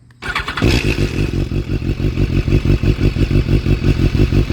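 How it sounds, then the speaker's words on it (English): A sport motorcycle engine, already warmed up, cranks and fires up, then settles into a loud, throbbing exhaust idle with a fast, lumpy pulse, close by. "we'll get her started up and you can listen to the exhaust."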